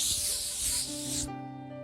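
A close, loud hiss of spray lasts a little over a second and then cuts off, leaving a faint hum behind.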